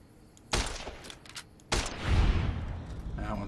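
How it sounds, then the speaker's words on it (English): Two sharp scoped varmint rifle shots ring out in the Fallout New Vegas video game, spaced about a second apart, each followed by a decaying rumble under faint background sound. "switching to the varmint rifle with scope."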